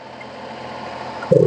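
A used car's engine idles at a dealership with a steady, even hum, then a short louder thump near the end.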